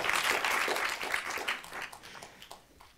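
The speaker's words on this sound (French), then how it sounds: "Oui, on peut les applaudir." A congress audience applauding health professionals, a burst of many hands clapping that starts full and gradually thins and fades out, heard in a large hall.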